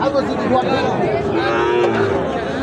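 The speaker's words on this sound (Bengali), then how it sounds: "সাইওয়াল জাতের ষাঁড় বাছুর" Sahiwal bull calves low at a busy livestock market held after Eid. The drawn-out, resonant moos are heard up close over a background hubbub of crowd chatter.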